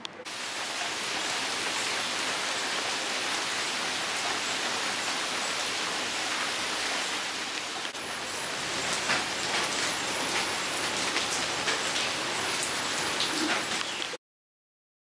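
Heavy morning rain pours steadily onto surfaces, a dense continuous hiss with scattered louder drops in the second half before it cuts off abruptly.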